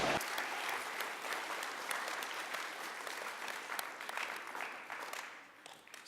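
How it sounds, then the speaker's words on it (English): A crowd at a forum in Winnipeg breaks into sustained, dense applause that stays loud for several seconds and then fades near the end. "Alors, on les applaudit bien fort."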